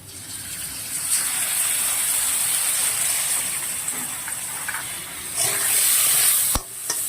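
Poppy seed paste hits a pan of frying cucumber and potato, giving a steady hissing sizzle with stirring scrapes that swell toward the end, followed by a sharp clack.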